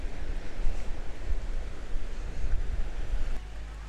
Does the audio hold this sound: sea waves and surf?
yes